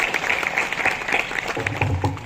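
Audience applause at a school clerk's retirement ceremony, a steady broadband patter of many hands lasting the whole moment, with a low murmur of voices rising near the end.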